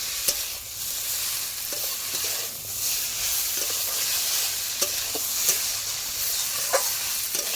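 Spice masala frying in a hot pan with steady broadband sizzle, stirred with a utensil that scrapes and taps at irregular intervals, close and fairly loud, no voices.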